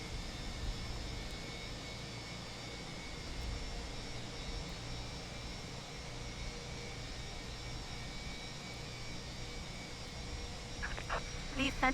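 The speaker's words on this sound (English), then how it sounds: "So the engine 1 starts up." In Microsoft Flight Simulator 2020, an airliner's engine 1 starts up in a steady, low, faint hum and rumble with no clear rise, and a couple of small clicks come near the end.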